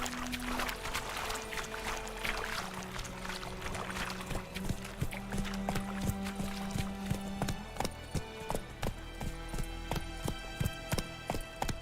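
Roach the horse's hooves in the video game The Witcher 3, a run of clip-clop steps that become clearer and more evenly spaced toward the end, set against game ambience and music.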